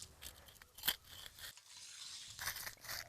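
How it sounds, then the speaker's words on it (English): An edging tool pressed and dug into wet concrete at a building site, cutting through the aggregate with quiet gritty scrapes and crunches in uneven bursts, close by with no talking. "what I'm using is an edging tool here. And I'm basically just going in and pressing it right into the wet concrete."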